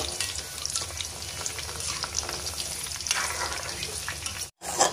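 Pakoda batter frying in hot oil, a steady close sizzle with crackling and occasional stirring that runs almost unbroken until a brief dropout near the end.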